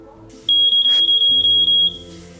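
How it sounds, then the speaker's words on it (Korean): A carbon monoxide alarm sounds in rapid, steady shrill electronic pulses for over a second, loud and close, then cuts off into quiet room noise. "일산화탄소 농도가 높아지면 큰 알람 소리로 알려줍니다"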